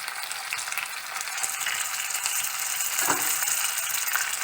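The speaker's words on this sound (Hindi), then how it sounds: "अनियन ऐड करेंगे, इसे फ्राई करेंगे।" Onions frying in half a cup of oil with ginger garlic paste in a pan for aloo gobhi, a steady loud broadband sizzle throughout with a brief scrape near the end, no talking.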